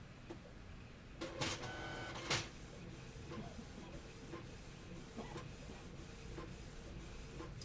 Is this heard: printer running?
yes